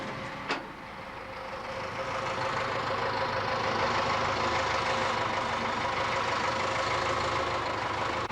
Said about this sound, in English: give the equipment a trial run at low engine revs